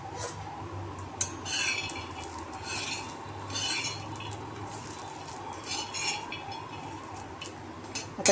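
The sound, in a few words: dry-roasting peanuts and coconut in a pan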